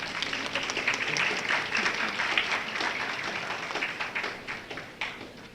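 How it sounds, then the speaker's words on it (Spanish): A conference audience in a hall claps to welcome a speaker on Ecuador's port history; the applause is even and steady, fading gradually over several seconds. "para quien pedimos un fuerte aplauso"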